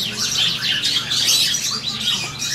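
A gray cockatiel gives rapid, shrill chirps and scratchy squawks that run continuously and sound close, with faint low background hum underneath and no talking.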